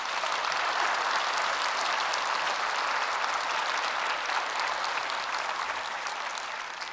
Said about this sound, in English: So I think a huge round of applause for the Children's Media Foundation.